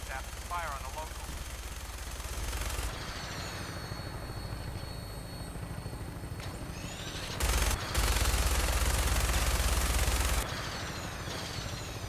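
Aircraft-mounted machine gun in Fallout 4 firing in sustained loud bursts over a steady engine drone, with a brief voice at the start.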